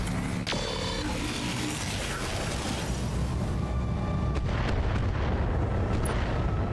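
Clan ATM missiles strike a Stormcrow mech in a BattleTech game, a dense roll of overlapping booms and crackling blasts that swell and fade across the span, loud and continuous.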